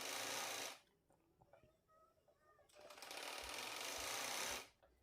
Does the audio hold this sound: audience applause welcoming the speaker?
no